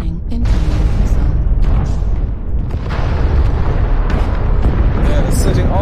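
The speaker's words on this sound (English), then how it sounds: "it's sitting all the way up there and shooting missiles over at us" Missile explosions in the MechWarrior Online video game boom and rumble continuously, with dense overlapping blasts and crackling impacts under intermittent talk.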